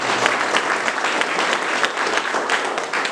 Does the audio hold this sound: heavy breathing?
no